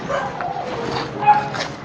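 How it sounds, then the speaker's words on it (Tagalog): A neighbor's dog barks and yips a few times at a distance, short bursts mixed with faint whimpering, with a brief louder yelp near the end. "kung may naririnig kayo na aso,"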